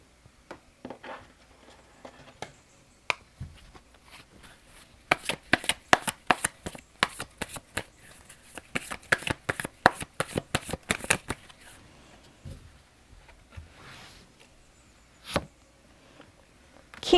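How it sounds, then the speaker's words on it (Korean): Tarot cards being shuffled and drawn by hand, close and fairly quiet, with rapid crisp riffling bursts clustered in the middle followed by a few sparse card flicks and snaps. "마지막으로 체리님을 위한 조언 카드 3장 한번 뽑아보도록 하겠습니다."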